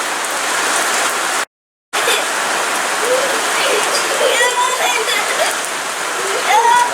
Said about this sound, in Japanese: すごい雨。